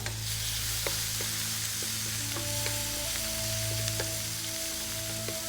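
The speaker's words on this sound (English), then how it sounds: "there's the ginger and there's the garlic paste. Want to add those two." Ginger and garlic paste sizzling in a hot oiled pan for Korean jjajangmyeon, a steady close frying crackle with faint scattered pops and a low background hum, no talking.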